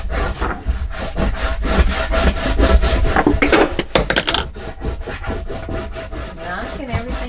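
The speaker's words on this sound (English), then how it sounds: "Let's burnish everything." A tool is burnished firmly back and forth across a photo album cover in quick, rhythmic rubbing strokes, close and dry-sounding, with no talk.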